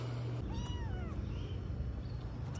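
Several kittens from a litter of four mew faintly in thin, rising and falling cries over a loud, rumbling background noise.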